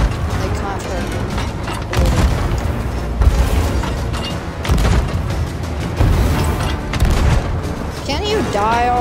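Cannonballs from a ghost ship explode in a video game, giving a string of heavy booms and bursts of varying loudness spread across the clip, mixed with someone talking excitedly.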